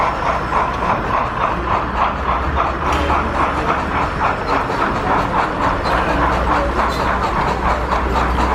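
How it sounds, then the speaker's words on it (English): A model train running on a layout at a train show, a continuous rumbling roll with rhythmic wheel clicks and a low motor hum, steady and fairly loud over busy hall ambience. "I then went to go take one last look at a train that was running on the layout."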